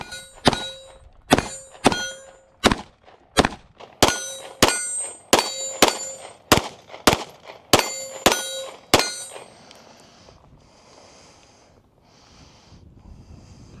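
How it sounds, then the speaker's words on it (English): 9mm pistol shots ring out in a rapid string of about fifteen sharp, loud reports, each followed by a ringing metallic clang from steel targets, then a few faint distant pings. "We've got all our hits on steel. And we got all our hits on our next piece of steel."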